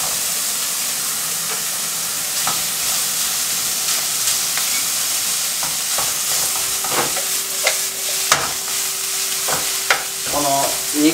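Fried rice sizzles and hisses in rendered meat fat in a hot pan, a loud steady frying roar with occasional scrapes and clacks of a spatula as it is tossed, close up.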